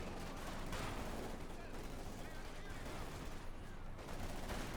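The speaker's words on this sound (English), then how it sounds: "Also using the PaK 44 anti-tank gun / field gun." PaK 44 anti-tank field gun firing in a Company of Heroes 2 match, with dense battle noise of gunfire and explosions rumbling continuously at low volume.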